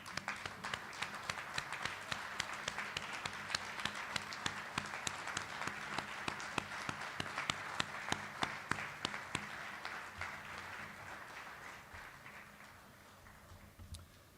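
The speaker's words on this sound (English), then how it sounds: "let's give them a round of applause." An audience at a Pearl Harbor Day ceremony honoring USS Intrepid sailors claps for about fourteen seconds, dense and sustained with a few sharp nearby claps, before tapering off at the end.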